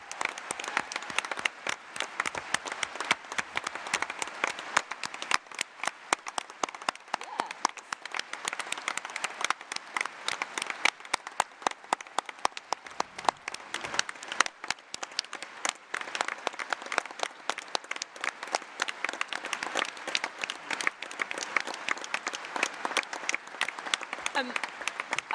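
Sustained applause from a large conference audience at the Labour Party conference in Liverpool, dense rapid clapping filling the hall steadily for the whole stretch without pause.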